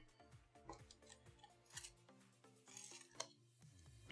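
A violet Prismacolor colored pencil turned in a sharpener, giving a quick series of close, scratchy grinding strokes over a few seconds with no voices.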